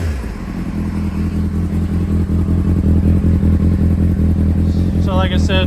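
A 2003 Honda CBR600RR with an Arrow exhaust, Yoshimura headers and mid-pipe idles steadily at full temperature, a loud, close, throbbing engine note that holds even throughout.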